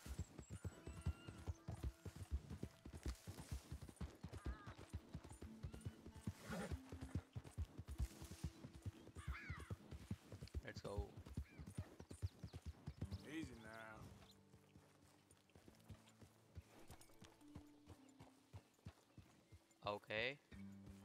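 Horse hooves gallop at a fast, even rhythm in Red Dead Redemption 2, the loud clip-clop running throughout with voices over it.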